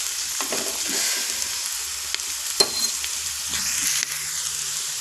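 Pea masala with turmeric and chili powder frying in a pan, a bright, loud continuous sizzle with brief spoon scrapes and taps as it is stirred, no talking.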